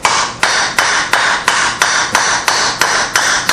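A hammer strikes a bushing driver to drive out the front hub bearing of a 2005 Suzuki Eiger, about ten loud, sharp metallic blows at a steady rhythm, each ringing briefly before the next.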